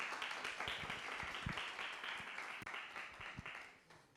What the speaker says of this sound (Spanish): Recibámosla con fuertes aplausos a María Fernanda Pineda.